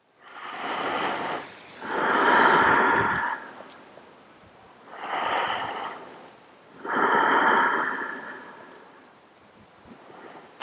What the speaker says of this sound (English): Breath full and deep.